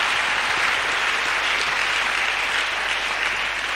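A church congregation claps and cheers in praise during a healing prayer service, a dense, loud, continuous wash of applause that fills the room without a break.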